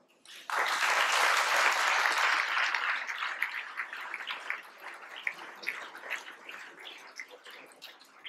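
An audience at a French ambassador's address to the French community bursts into applause for consulate colleagues, a sudden loud wash of clapping that gradually thins into scattered, separate claps.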